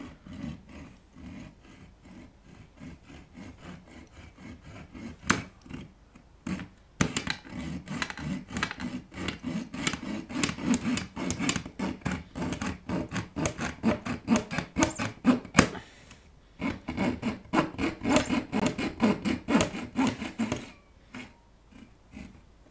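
Rough, dense metal filing along the edges of a freshly cut transformer hole in a steel amplifier chassis, with repeated close scraping strokes that run almost continuously and pause briefly now and then.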